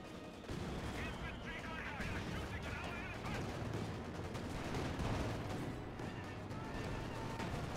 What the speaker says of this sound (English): Just too much anti-infantry fire.